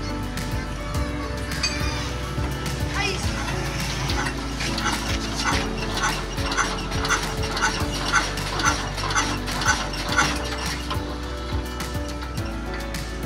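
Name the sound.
Diesel S1125 engine started and running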